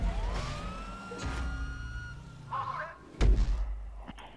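A police car siren wails in GTA V, its rising and falling tone fairly faint beneath game noise, with a thud and some bumps near the end.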